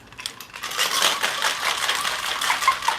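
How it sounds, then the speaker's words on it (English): A lidded container of pomegranate juice drink shaken vigorously, giving a steady, busy rattle and slosh with rapid clicking impacts that runs nearly unbroken for about three seconds, close to the microphone. "we're gonna put this lid on here and shake her up"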